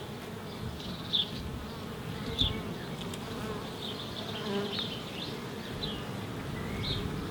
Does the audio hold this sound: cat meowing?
no